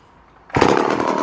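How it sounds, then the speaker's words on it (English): A vintage Homelite C51 chainsaw fires up after a half-second of near silence, its engine bursting into a loud, close, steady running roar with no voices. "I'll start it one last time so you can see exactly how it's leaving me"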